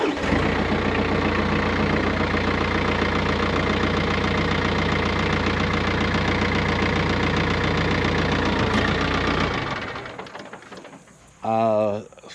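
A TYM 4815h compact tractor engine runs steadily and loud for about ten seconds, then the sound drops away as the hydraulic lift raises, ending with a short whining burst.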